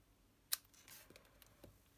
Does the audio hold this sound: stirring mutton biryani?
no